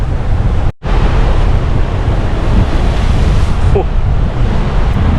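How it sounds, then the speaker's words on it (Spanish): Ocean waves roll in on the Fuerteventura coast with a loud continuous wash of surf, heavy wind buffeting the microphone throughout. "Mira cómo entra la ola."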